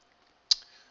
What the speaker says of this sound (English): my arrow keys.